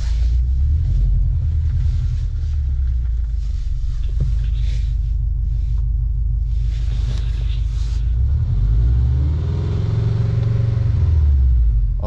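Steady low rumble from a Subaru 1.5 litre engine, loud and continuous with a slow swell in pitch partway through, close by and without speech.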